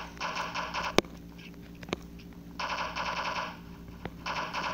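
Rapid assault rifle gunfire in the blocky shooter game Block Strike, loud automatic bursts repeating with short gaps, with a few sharp single shots between them.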